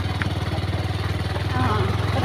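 A motorcycle carries riders toward the Tatopani hot springs in Khaniyabas, its engine holding a steady, low, close drone with a slight rise near the end, while faint voices sound underneath.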